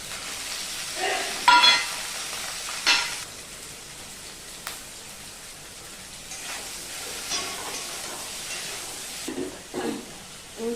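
Chopped onion hits a hot pan and frys with a steady sizzle, a few sharp clatters of a utensil stirring against the pan rising above the hiss.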